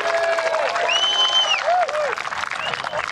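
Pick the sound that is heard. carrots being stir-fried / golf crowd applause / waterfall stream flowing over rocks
golf crowd applause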